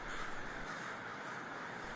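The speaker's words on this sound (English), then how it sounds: "For anyone who's experienced the mass evening migrations of these birds, the effect is eerie" A large flock of crows cawing together during a mass evening migration over an urban landscape, a dense continuous wash of overlapping calls, steady and fairly loud throughout.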